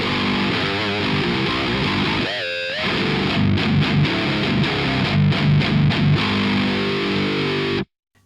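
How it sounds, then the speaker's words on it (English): A heavily distorted G4M 529 Pro-FR electric guitar in drop G tuning plays low, sustained chords and riffs with short pauses and choppy stops, ending abruptly into silence. "it sounds really, really good in drop G with that kind of distortion"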